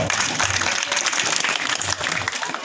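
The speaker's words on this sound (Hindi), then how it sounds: "एक बार जोरदार आप मन ताली पैदा करो।" Audience at an outdoor Hindi poetry gathering claps in a short, lively burst of applause, brisk and fairly close, with crowd murmur underneath.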